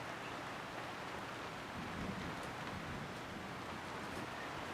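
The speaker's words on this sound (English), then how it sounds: "It's raining outside." Steady rain falling outside with low rolling thunder rumbling beneath it, a soft, continuous wash of sound heard from indoors, with no talk.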